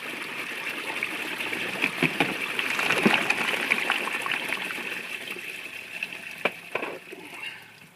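Water flows over a sluice mat carrying Eureka Gold Sands pay dirt, a soft, steady trickling and splashing stream heard close by with a few small knocks, and no talk.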